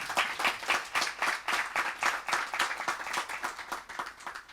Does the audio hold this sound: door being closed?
no